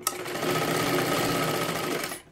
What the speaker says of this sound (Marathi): अशा पद्धतीने थोडं थोडं शिलाई करत करत यायचं आहे